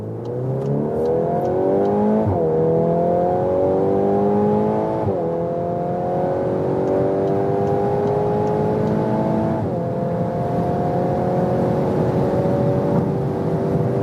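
A VW Golf R in race mode accelerates hard from inside the cabin, the engine note climbing steadily through the gears with quick drops at each of several upshifts, a loud, continuous whine and roar.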